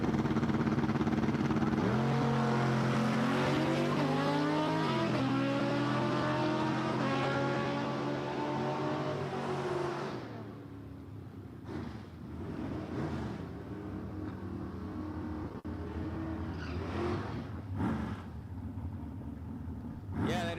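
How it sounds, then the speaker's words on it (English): A drag race car rolls into the water box lane at Empire Dragway for a burnout, its engine revving loud and rising for several seconds before easing into a lower, rougher rumble. "And Michael Reed pulling into the Insinger lane, getting his tires wet."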